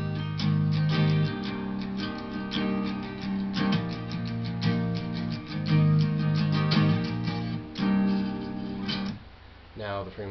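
Clean electric guitar on an ESP Ltd EC-500's rhythm pickup playing warm strummed chords and picked notes, steady and fairly loud, with a short pause near the end.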